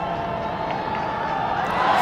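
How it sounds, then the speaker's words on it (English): Steady roar from a large cricket crowd at a Nepal versus USA T20 match after the first six of the day, a dense, continuous wash of cheering that swells slightly toward the end. "Huge roar from the crowd because that's the first maximum of the day"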